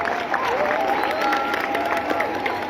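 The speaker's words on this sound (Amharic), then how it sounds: "ለጀማይካዎች አንዴ ሞቅ ያለ ጭብጨባ።" An audience gives warm applause for Jamaicans during a presentation on Bob Marley's life history. Steady, dense clapping from a crowd fills the short moment at a fairly even level.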